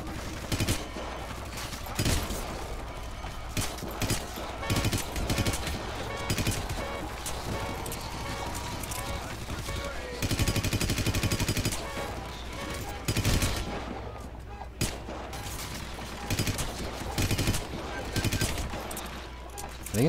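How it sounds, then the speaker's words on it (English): Sustained gunfire shootout in Hitman Absolution against heavily armored enemies, rapid overlapping shots and bursts filling the whole span, loud and dense with brief lulls, with a voice talking underneath at times. "It's like we're having a shootout."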